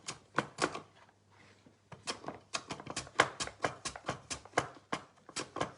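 A knife chops carrots on a kitchen board with quick, crisp, irregular strokes close by, pausing briefly before resuming in a steady series of sharp taps.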